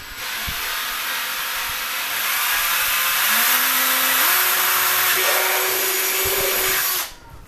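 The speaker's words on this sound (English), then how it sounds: "Got our 5/16 hole in there" A power drill bores a 5/16 hole for a rabbit automatic watering system, running loud and steady for about seven seconds with a whining motor pitch that rises in steps before it stops abruptly.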